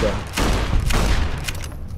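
Several booming shotgun blasts fire in quick succession in Fallout: New Vegas, loud and close, with game sound effects around them.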